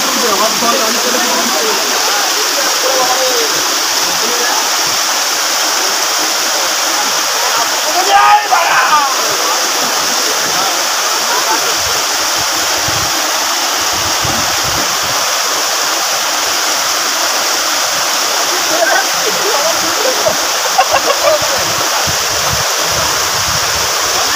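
Bamni Falls in Purulia pours down in a steady, loud, broadband rush of falling water that fills the whole scene, with a few brief splashes and faint voices buried beneath the roar.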